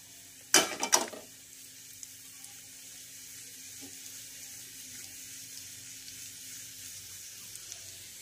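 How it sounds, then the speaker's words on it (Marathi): Hot asafoetida tempering is poured onto mashed potato stuffing for aloo paratha. It gives a short, sharp crackling sizzle that dies away quickly into a faint, quiet hiss. "हे छान असं तडतडून आपल्याला त्या स्टफिंग वर घालायचं आहे"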